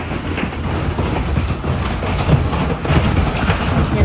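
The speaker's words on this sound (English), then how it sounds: "Hail just busted through the ceiling in our..." Hail pounding a house roof and breaking through into the kitchen ceiling during a storm, heard indoors as a dense, continuous roaring clatter of rapid impacts with heavier knocks scattered throughout, loud and unbroken.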